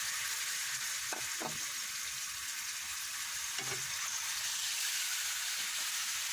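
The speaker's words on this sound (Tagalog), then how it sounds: "i-golden brown muna natin itong ating pork" Pork frying in a pan of oil until golden brown, a steady, close sizzling hiss throughout, with a few soft scrapes of stirring.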